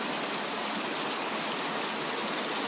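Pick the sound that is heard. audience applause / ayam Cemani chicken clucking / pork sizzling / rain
rain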